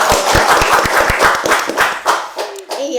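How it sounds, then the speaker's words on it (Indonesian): A small studio audience at a talk show claps to welcome two guests: close, sharp, fairly rhythmic hand claps that thin out and fade after about two seconds, with faint voices at the tail. "Tepuk tangan dulu, tepuk tangan dulu."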